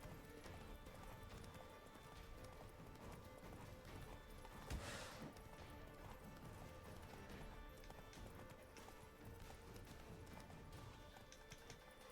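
Faint hooves of a horse in The Witcher 3 gallop steadily in a continuous clip-clop, quiet and buried in a noisy game soundscape.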